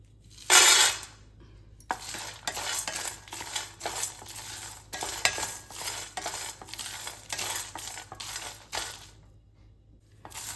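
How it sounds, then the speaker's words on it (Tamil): Peanuts dry-roasted and stirred in a metal pan for stuffed kara kozhukattai, giving a steady run of close, dry clinks and rattles with a sharp scrape near the start; no voices. "லைட்டாக வறுத்து விட்டுறலாம் கருகிடாமல் இது கூட இந்த நிலக்கடலையும் நம்ம சேர்த்துடலாம்"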